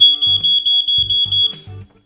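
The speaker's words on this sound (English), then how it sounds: "you need to make sure that you've got smoke alarms and that you test them" A smoke alarm is tested, letting out a loud, close, high electronic tone with a pulsing beep pattern over a low repeated thumping, stopping near the end.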